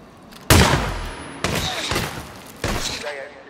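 Three loud, sharp gunshot bursts fire in Hitman 2, each decaying with a reverberant tail and spaced about a second apart, with game audio running between them.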